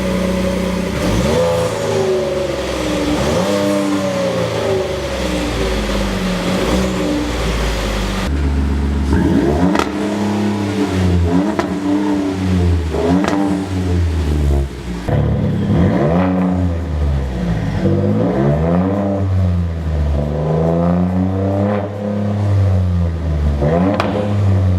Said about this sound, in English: now let's hear how they sound compared to the stock exhaust.